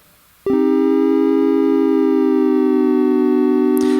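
Synth in Ableton Live with pitch modulated by a fast LFO, a sharp buzzy tone that switches on after a brief silence and holds a rapidly warbling, siren-like pitch, loud and steady.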